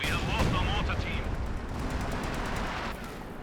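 Mortar and artillery fire from a Company of Heroes 2 battle: dense, continuous booms and crackling gunfire blend into a loud, busy wash, with a voice talking over the start.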